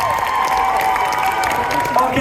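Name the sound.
applause for a cosplay contestant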